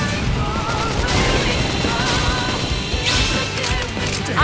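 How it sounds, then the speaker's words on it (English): Flame grenade attack in the Xenoblade Chronicles X video game, heard as a dense, continuous burst of crashing, explosive combat noise with crackling impacts that hold steady throughout and swell near the end. "Flame grenade!"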